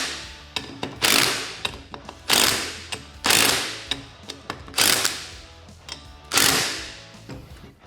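A hand ratchet tightens the clutch bolts of a SuperATV clutch kit on a Polaris RZR Trail S 1000 in an X pattern. It gives repeated loud bursts of fast clicking, each followed by a short pause, close up with no speech.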